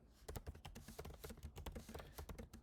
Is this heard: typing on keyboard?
yes